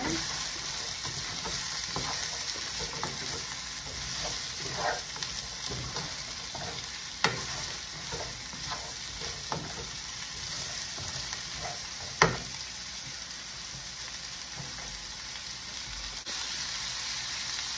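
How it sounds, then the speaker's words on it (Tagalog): Food sautéing in a hot pan while chicken curry udon is cooked: a steady sizzle runs throughout, with scattered clicks and scrapes of stirring and a few sharper knocks against the pan. "Igisa na natin sa konti dito."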